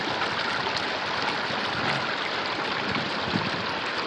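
Steady rushing water pours through a gold-prospecting sluice box at a dig site, a continuous close broadband wash with no pauses or voices.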